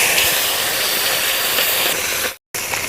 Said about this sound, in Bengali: তেল গরম হয়ে গিয়েছে, এবার আমি মাছটা দিয়ে দিই।